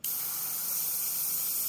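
Steady airbrush or spray-can hiss of paint misted lightly onto a carved cardinal's wings, one continuous close burst with no talking.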